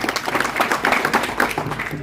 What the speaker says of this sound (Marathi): त्यांच्यासाठी टाळी वाजवा